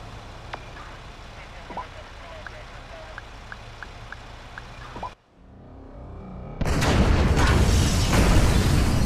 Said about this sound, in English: trigger the firebombs, Frank